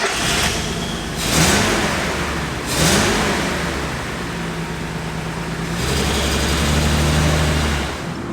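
A Datsun 240Z engine revs repeatedly during a test drive with the air cleaners removed, rising in several bursts before settling into a steadier drone and then climbing again, while the engine seems to hit a ceiling at about 4,000 RPM.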